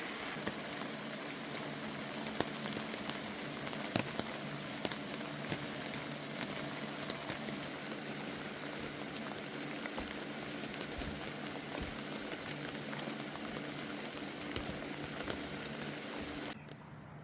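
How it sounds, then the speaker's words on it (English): Steady rain patters on a taut tent roof overhead, a dense continuous hiss with occasional sharper drops, with no voices. "Geez, the rain's picking up"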